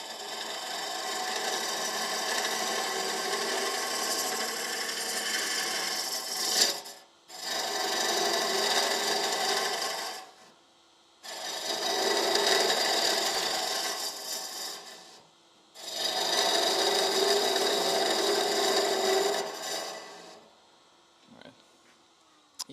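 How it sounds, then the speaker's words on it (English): Mulberry hollowform spins on a woodturning lathe while a curved hollowing tool cuts inside it, giving four long, close scraping, rasping passes separated by short silent pauses, then a quieter tail with light knocks. "And then I gotta switch to the curve tool"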